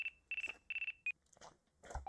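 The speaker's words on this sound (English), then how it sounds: "Looks like I have a phone call." A phone rings in the Dual Destinies game with several short, bright electronic trills in quick succession, followed by a few faint scattered sounds.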